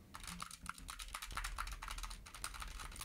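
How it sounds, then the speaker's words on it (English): Quick clacking keystrokes of a SteelSeries Apex Pro Mini mechanical keyboard tap away in irregular bursts, fairly quiet and close, with no one speaking. "I'm going to type on the SteelSeries Apex Pro Mini so you can hear keyboard noise pickup"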